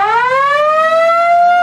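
A loud riot siren in a video game wails alone as one continuous, slowly rising tone.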